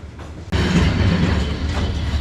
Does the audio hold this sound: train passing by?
yes